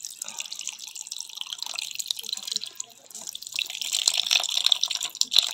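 Vinegar pours and trickles over raw bangsi fish for kinilaw, a continuous close splashing and dribbling of liquid that grows louder toward the end, with no voices.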